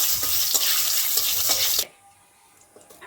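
A bay leaf and a little cumin fry in hot oil in a heated kadai: a loud, bright sizzle with a few stirring clinks that cuts off abruptly after about two seconds, leaving a quiet kitchen with faint scraping.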